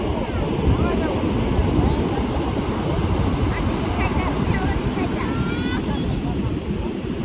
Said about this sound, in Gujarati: આજે દરિયા બહુ ખારો છે મોજા મારે છે બહુ જ